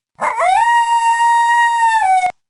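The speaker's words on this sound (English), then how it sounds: "Now let me introduce you to coyotes" A single coyote howl rises quickly, holds a steady tone for about two seconds, then drops away, loud and close with nothing else around it.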